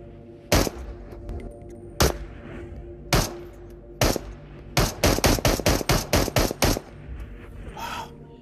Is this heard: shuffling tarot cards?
no